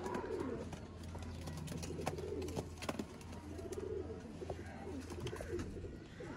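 Pigeons kept for a kabootar bazi setup coo in low rolling phrases, fairly faint, with scattered clicks and rustles around them and no talk.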